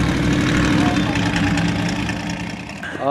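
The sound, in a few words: race car with 283 engine idling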